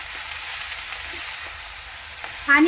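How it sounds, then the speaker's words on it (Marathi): Chour bhaji, a Maharashtrian leafy vegetable, frying in hot oil gives a steady, fairly loud sizzle that runs through the whole stretch, with a brief clatter near the end. "याला चांगली तेलामध्ये होऊ द्यायची"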